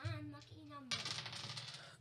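Dice tumble and rattle across a hard surface in a quick burst of light clicking, following a brief voice heard faintly at the start.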